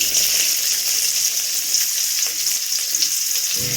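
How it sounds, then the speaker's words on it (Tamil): Sliced onions sizzle steadily in hot oil in a pan for a Nellai-style potato curry, a dense, continuous frying hiss with a faint stir near the end and no talk. "கொஞ்சம் பொன்னிறமாக வர முடியும் நம்ம வறுத்துக்கலாம்"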